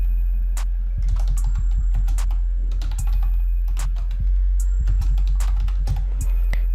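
Keys clatter on a computer keyboard as a collection title is entered in a Shopify store admin, producing irregular bursts of close, crisp clicks over a steady low hum, with no voices.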